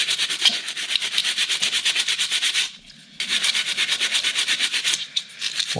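Motorcycle brake pads from a Kawasaki Z1000SX are scrubbed with soap over a sink, fast rhythmic rubbing strokes that run loud and close, pausing briefly for a moment before resuming.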